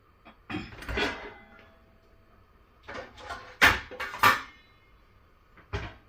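A metal lid goes onto a pot holding erukku leaves set to warm. Several close clanks and scrapes come in clusters with quiet gaps between them, and the last knock is sharp.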